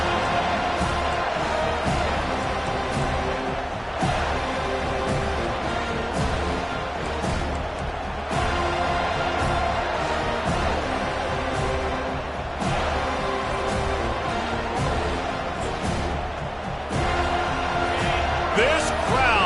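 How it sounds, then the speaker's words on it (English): A football stadium crowd roars at a steady, dense level for the full stretch, with swells of cheering rising at intervals beneath an announcer speaking over it. "This crowd, full throat, splitting the eardrums"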